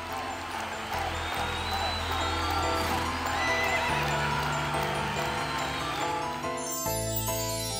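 Horses neigh and whinny over a soft backdrop of clip-clopping hooves in a scene about the Magdeburg hemispheres experiment in Germany, a dramatized mix that changes near the end.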